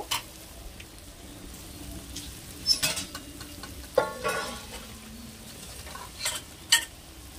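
Marinated mutton sizzles in a hot pan while it is stirred, with a steady low frying hiss and several sharp scraping clatters of a spoon against the pan, close up and with no talk.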